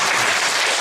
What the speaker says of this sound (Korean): 박수를 쳐봐요.